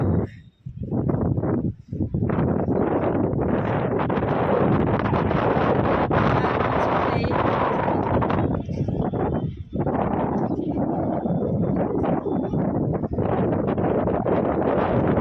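Strong outdoor wind buffets the microphone in loud, continuous gusts with brief lulls, rumbling and roaring over rustling surroundings, and no voices can be picked out.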